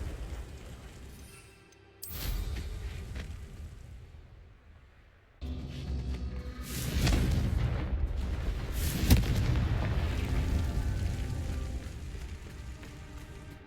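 Confringo blasting spell explosions in the game Hogwarts Legacy, booming blasts with a rumbling crackle that swells, fades, then returns louder and sustained with a sharp peak partway through.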